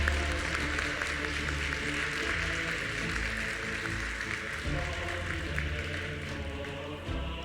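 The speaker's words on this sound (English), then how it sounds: "Give them a great hand of applause." Sustained audience applause at an award ceremony, steady dense clapping from a large crowd filling the whole stretch with no pauses.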